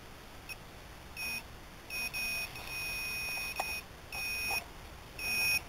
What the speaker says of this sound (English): And we can check out our newly modified